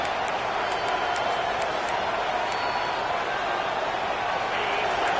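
A packed football stadium crowd roars loudly and without a break while the defense tries to pin the opponent deep in its own end, a dense, even wall of noise that lasts the whole stretch.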